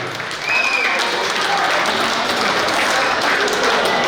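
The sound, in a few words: audience applause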